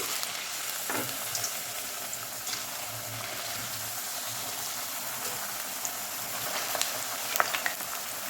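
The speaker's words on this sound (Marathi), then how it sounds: "तेल छान गरम झालेलं आहे तर आपण आता चिप्स तळून घेऊ" Potato chips fry in hot oil with a steady, close, even sizzle, joined by occasional soft clicks and light stirring.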